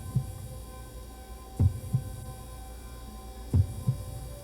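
Slow, steady heartbeat thuds repeat as soft paired beats, close and muffled over a faint constant hum, with no talk.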